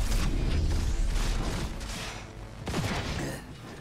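Gunfire in Cyberpunk during a boss fight against Adam Smasher: loud, dense rapid shots and heavy booming impacts pile up continuously for the whole few seconds, with no gaps.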